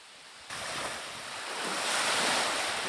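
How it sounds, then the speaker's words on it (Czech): Sea waves wash onto a beach shore in Papua, a broad rushing surf that swells louder after a short start and keeps up steadily, with wind noise on the microphone. "Teď máme záběr na moře."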